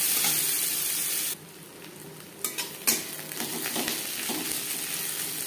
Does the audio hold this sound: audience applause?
no